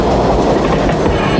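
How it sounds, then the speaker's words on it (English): A New York City subway train rumbles past with loud, close clattering wheels and a brief squeal at the end, with no talk over it. "during some of your conversation, a subway's gonna come by"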